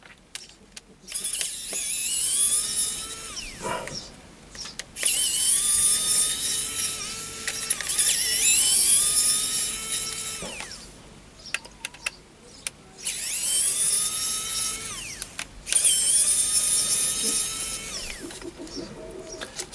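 A small electric screwdriver backs screws out of a camera body in repeated bursts, each a high whirring spin lasting a few seconds with short pauses between, close by and without speech.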